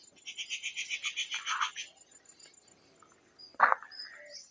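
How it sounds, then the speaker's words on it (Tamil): Birds call on Palamalai hill, a wooded hill temple area: a quick series of bright, rhythmic chirps, then a sharp single call and softer scattered notes over near silence. "அழகழகான பறவைகளின் ஒலிகள்,"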